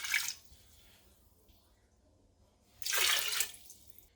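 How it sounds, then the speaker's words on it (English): Fresh water poured into a soup pot while cooking potato bacon soup, two short splashing bursts with a quiet pause between them. "I'm going to add 3 cups of fresh water."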